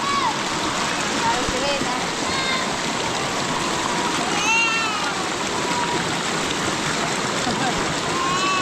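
River water rushes and splashes steadily as a child plays in it, a dense continuous wash loud throughout with faint voices mixed in.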